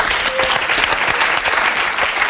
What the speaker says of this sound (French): Jean-Marie Messier, mesdames, messieurs, vous pouvez l'applaudir.